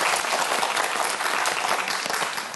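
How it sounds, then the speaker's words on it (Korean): A studio audience at a televised science quiz show applauds a student contestant with a thick, lively burst of clapping that stays strong and tapers slightly at the end. "박수 한번 보내주세요."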